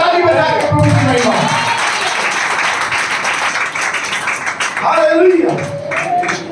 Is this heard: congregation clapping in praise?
yes